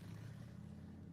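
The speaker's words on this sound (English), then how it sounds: "This is the sound of a popular American motorcycle." A popular American motorcycle engine produces a low, steady, throaty rumble. It is faint and continuous, with no change in pace over a second.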